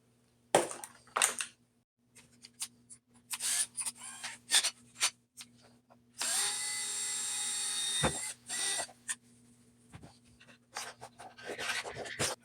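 A hole sized for high-voltage wire is drilled in a homemade EMP device. A brief, faint drill whir of about two seconds is surrounded by scattered scraping, clicking and handling noises, with no talking.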